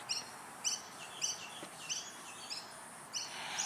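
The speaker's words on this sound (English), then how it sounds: "But that is not an American bird." Birds calling in Sydney, Australia, bright chirps repeating in an even rhythm about every half second, moderately near over a quiet city background.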